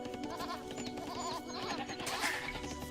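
Sheep bleating in the Age of Empires II strategy game, short bleats over a busy background of game music and ambient effects, with a brighter burst near the end.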